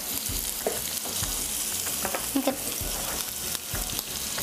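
Chopped onion, ginger, green chilli and whole spices such as black cardamom, peppercorns and green cardamom sauté in a pan with a continuous close sizzle and scattered light stirring scrapes.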